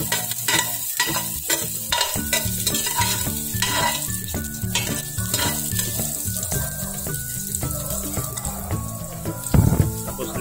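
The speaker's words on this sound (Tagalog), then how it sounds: "sige gisa na natin yung bawang" Garlic sautéing in a pressure cooker pot for a Bacolod cansi beef dish, a continuous sizzle with rapid rhythmic stirring scrapes and clinks of the utensil against the metal, no speech.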